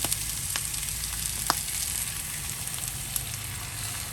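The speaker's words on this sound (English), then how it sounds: "Now I'm going to dump my eggs on." Eggs sizzling as they are dumped into a hot pan over an open fire, a steady dense crackle with occasional sharp pops.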